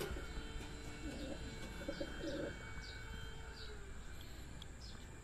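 A racing pigeon at a training release coos softly a few times, with faint distant chirps over a steady outdoor hum, all quiet and somewhat far off.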